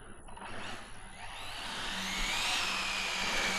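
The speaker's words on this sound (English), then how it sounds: "So it definitely has a fast servo." An Arrma Felony RC car whirs with a fast servo and a rising mechanical motor whine, steady and close, sounding alone without voices.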